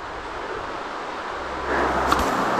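The Cachoeira do Fojo waterfall near Florianópolis roars as a broad, steady hiss of falling water heard from a distance, swelling a little louder toward the end, with no talking.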